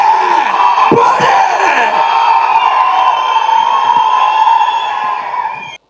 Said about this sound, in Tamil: பேரை சொல்லாமலே இவ்வளோ கைத்தட்டலாம்